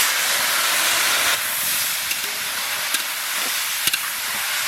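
Tomatoes dropped into hot oil with mustard seeds and dried red chillies sizzle with a strong, steady hiss, broken by a few faint crackles and pops.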